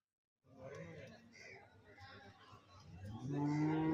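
Cattle, including large jallikattu-size bulls, lowing amid a busy crowd of chattering voices at a livestock market, with a louder, sustained moo rising near the end.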